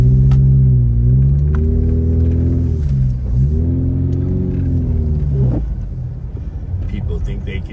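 A car drives through snow at Big Bear Lake, its engine a steady loud rumble rising and falling in pitch as it shifts and pulls, close and continuous throughout.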